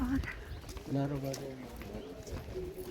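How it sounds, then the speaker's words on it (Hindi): Birds chirp and coo faintly in the background while people talk over them. "चिड़ियों की चहचहाट है"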